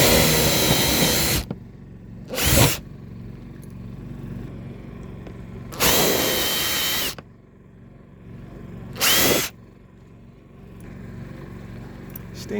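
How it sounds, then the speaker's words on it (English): A power drill drives a stainless steel screw into a 1x4 soffit board in a garage, sounding in four separate loud whirring bursts of varying length with quiet gaps between them. "We're going to put a screw there."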